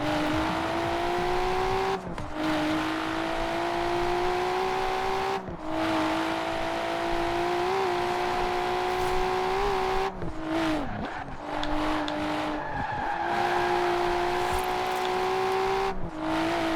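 A car engine in Forza Horizon 4 drones loud and near at high revs, holding a steady whine with brief dips at gear changes every few seconds while the car races at speed.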